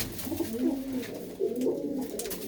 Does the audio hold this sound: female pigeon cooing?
yes